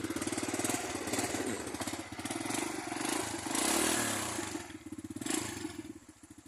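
A cold motorcycle engine idles and warms up close by, running in a steady rapid chugging beat with a few louder swells of revving, no talk over it.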